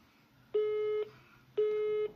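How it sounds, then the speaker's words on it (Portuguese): Two steady electronic tones from a telephone exchange after a code is dialed on an off-hook phone, each about half a second long and separated by a short gap, clear and alone over a quiet line. "aguardo, dá 2 bips"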